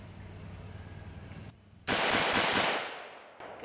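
A Zastava M90 rifle fires a loud, close burst that rips out and rings down over about a second, after a muffled stretch of background noise, with no talking.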